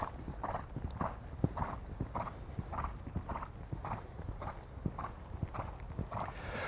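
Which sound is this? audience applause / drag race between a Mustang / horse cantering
horse cantering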